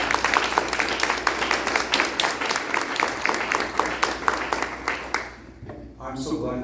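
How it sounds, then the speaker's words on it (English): A panel discussion audience applauds the panelists, a dense run of clapping that fills the room for about five seconds before fading, with voices heard as it dies away. "please give the panelists a round of applause"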